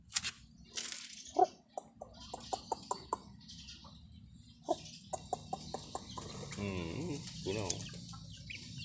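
Chickens and small chicks on a farm cluck and peep in repeated short bursts, close and fairly quiet, while a person speaks briefly.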